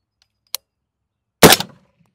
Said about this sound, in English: we're gonna put 2 rounds into this gel and see how it goes